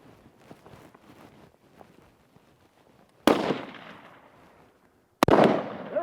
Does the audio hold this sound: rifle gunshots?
yes